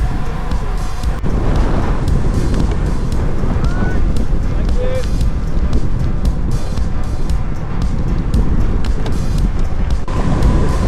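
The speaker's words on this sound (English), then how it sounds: "As you can hear, it's pretty damn windy." Strong wind buffets the microphone in a constant loud roar, steady throughout with no pauses, during a cycling leg of a coast-to-coast challenge in Scotland.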